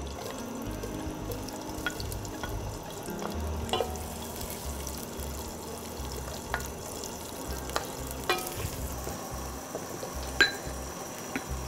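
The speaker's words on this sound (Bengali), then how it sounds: "আমার তেলটা গরম হয়ে গেছে, আমি এখানে 1 কাপের মতো পেঁয়াজ দিয়ে দিব" Chopped onions frying in hot oil in a pan, a continuous close sizzle with stirring scrapes and occasional sharp clinks of a spoon against the pan, steady and fairly loud throughout.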